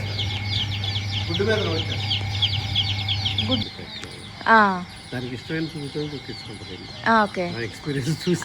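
Pandem kodi game chickens clucking repeatedly, close by and fairly loud, with a few louder calls standing out and a person talking at times over them.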